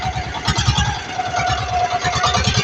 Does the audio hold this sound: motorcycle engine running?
yes